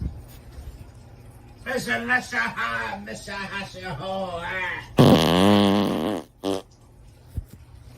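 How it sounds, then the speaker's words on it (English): A voice sings a melodic line, then a long, loud, wet flatulent sound bursts in close by, followed by a shorter one and a faint pop. "obviously it's someone singing and farting and sending us a message"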